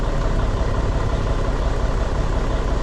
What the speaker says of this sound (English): Let's bump up them RPMs a little bit.